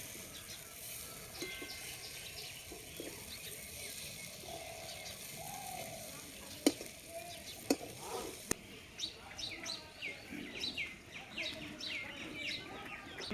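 Semolina and vegetable pitha fry in a pan with a faint, steady sizzle under scattered clicks and taps, growing busier toward the end.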